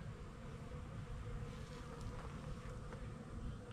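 Bees buzz near a hive outdoors, a faint continuous drone with a low rumble underneath and no voices.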